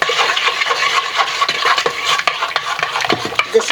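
A spoon stirs the milk mixture for sourdough cinnamon rolls in a bowl, giving close, rhythmic scraping and swishing strokes that repeat steadily with no voices.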